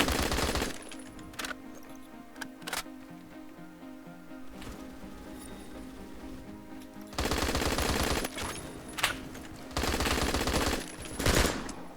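Heavy M107 rifle shots in Phantom Forces, sharp cracking reports fired in spaced bursts, with quieter gaps of game ambience between the loud volleys.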